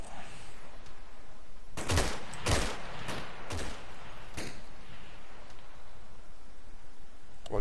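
Rifle fire in the video game Arma, a cluster of five or six loud cracking shots in quick irregular succession, heard close over a steady background hum of outdoor ambience.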